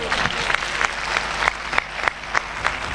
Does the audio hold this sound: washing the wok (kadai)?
no